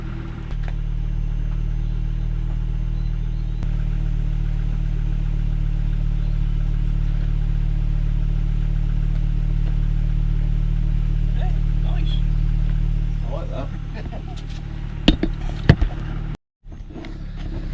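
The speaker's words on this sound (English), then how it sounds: "That was the cold start." A Volvo V70 with a Jetex aftermarket exhaust idles after a cold start, a steady low drone holding for about thirteen seconds before easing off, followed by a few sharp knocks and brief silence.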